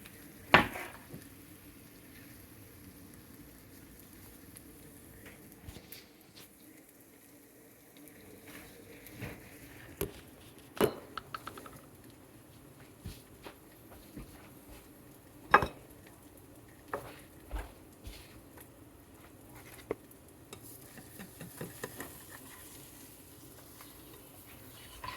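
An over easy egg frying in a pan gives a quiet, steady sizzle, broken by scattered clicks and scrapes of a utensil against the pan.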